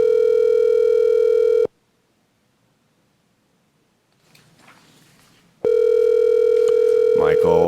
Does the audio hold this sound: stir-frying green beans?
no